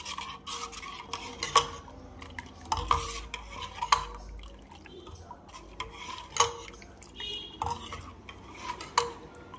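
Spices such as turmeric and garam masala are stirred into tomato soup in a pot, with a utensil scraping and clinking against the metal in an uneven, repeated rhythm, close and fairly quiet.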